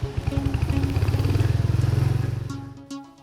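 A motorbike carries two riders away on a wet seat, its engine note pulsing steadily and close for most of the ride before easing off near the end, with a brief rise again at the close.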